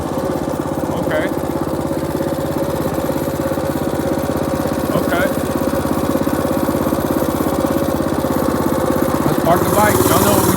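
A mini bike's small engine runs steadily and loudly close by, a continuous buzzing drone with no break, slight rises in pitch near the end.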